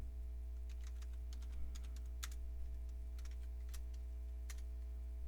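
Someone typing a command on a computer keyboard while installing Windows 2000 in a virtual machine: light, irregular key clicks over a steady electrical hum, quiet and close, no talk.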